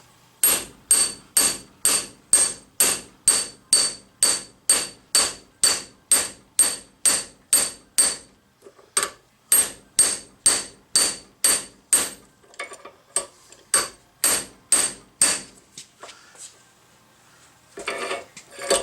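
Steady metallic hammer blows on a steel bushing on a truck spindle, about two per second, ringing sharply, with a short break and some softer taps toward the end.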